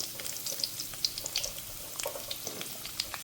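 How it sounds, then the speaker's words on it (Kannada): Drumstick pieces fry in coconut oil on a tawa, giving a soft, steady crackle broken by scattered sharp pops and small sputters, heard alone without talk. "ಎಣ್ಣೆಯಲ್ಲಿ ಸ್ವಲ್ಪ ಈ ರೀತಿ ಇದನ್ನು ಫ್ರೈ ಮಾಡ್ಕೊಳ್ಬೇಕು."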